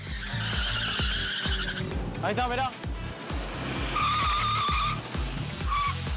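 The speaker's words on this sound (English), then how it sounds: "Skidding and speeding along this road that is filled with pedestrians." A modified Fiat 147 skids and speeds along a road crowded with pedestrians, its loud engine droning continuously while tires squeal in repeated bursts. Someone speaks briefly over the noise.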